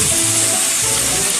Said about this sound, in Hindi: नमक हल्दी को मिक्स करके इसको अच्छे से हम फ्राई कर लेंगे